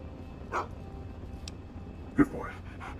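A dog in the video game Fallout 3 gives a few short barks and yips, separated by pauses, over a low steady background hum.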